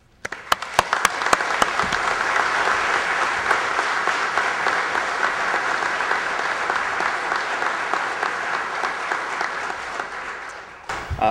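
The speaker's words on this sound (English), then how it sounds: "can we have a round of applause for them, please?" Sustained applause from the audience at a local peace officer memorial service, a dense, steady wash of many hands clapping that swells quickly and holds for about ten seconds before tapering off.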